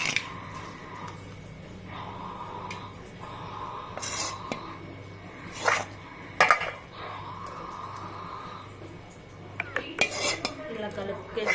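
A spoon scrapes and clinks against a pan as fried chicken is stirred and mixed for chicken pachidi. The metallic knocks come irregularly over a low, steady hum.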